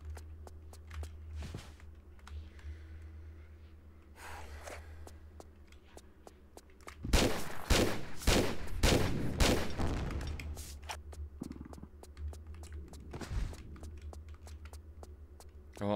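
Tomb Raider 3 speedrun gameplay with a short cluster of sharp gunshots in the middle, loud against quieter footsteps and ambient game sounds before and after.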